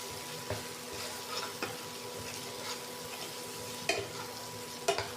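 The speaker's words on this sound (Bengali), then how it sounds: "এবারে ভালো করে কষাবো" Masala for pomfret curry being stirred and sautéed on low flame, a soft continuous sizzle with occasional scraping taps of a spoon against the pan.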